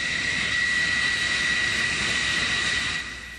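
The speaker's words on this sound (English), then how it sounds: "Another launch. Airplanes leaving the cat again." An F-14 Tomcat jet roars steadily as it launches from an aircraft carrier catapult, a loud, dense engine blast that drops off sharply near the end.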